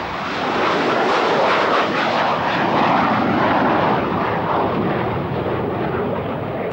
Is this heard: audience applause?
no